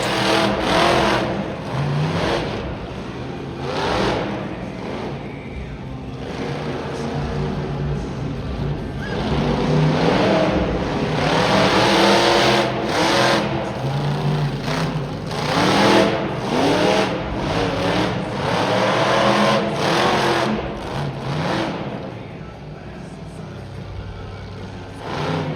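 Monster truck engine roaring and revving hard through a freestyle competition at an arena motorsports show, loud and sustained with surging throttle bursts and crowd noise around it for the whole stretch.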